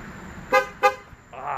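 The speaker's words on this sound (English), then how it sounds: "the honk. It's really annoying" A Ford Explorer horn gives two short, loud toots about a third of a second apart as the SUV locks, heard alone and fairly close.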